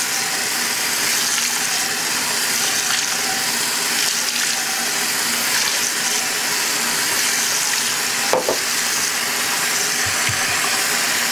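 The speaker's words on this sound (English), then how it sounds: "I rinse away the blood in the sink." Water runs steadily from a faucet into a sink while a cut is rinsed of blood, a continuous close splashing gush with faint clinks near the end.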